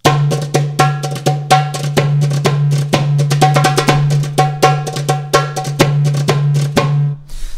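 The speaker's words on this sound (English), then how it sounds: "I've been learning to play something that actually sounds Egyptian using the dom and the tek" A darbuka plays a fast, lively Egyptian-style rhythm of deep dom and sharp tek strokes, loud and close. The hits are dense and evenly driven over a steady low hum, with no talking.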